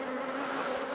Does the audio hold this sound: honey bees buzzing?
yes